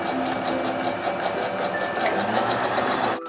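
A sewing machine runs steadily at close range, stitching around the seam of a pair of bike pants, with a continuous rapid whir and no pauses or voices.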